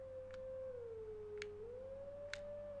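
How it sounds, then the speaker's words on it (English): A wolf in Zelda: Twilight Princess HD lets out a long, sustained, tonal howl that dips and rises slightly in pitch, clear and alone with a few faint clicks behind it. "at least he's howling now"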